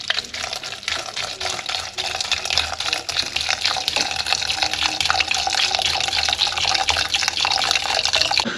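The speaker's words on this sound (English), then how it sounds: "But that red wine gives it that really full flavour. So I'm going to add that to my stock now." Red wine poured into a pot of stock for spaghetti Bolognese, a steady close liquid splash and trickle running for several seconds with no talk.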